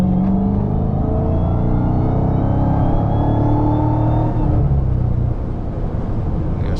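2023 Dodge Charger Hellcat under acceleration, a loud, deep engine roar climbing steadily in pitch from inside the car before easing off near the end.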